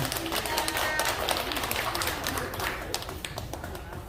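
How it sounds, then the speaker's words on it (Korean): Members of a hiking club applaud together indoors, a steady patter of many hands at moderate distance lasting a few seconds, with faint voices underneath. "박수 부탁드리겠습니다"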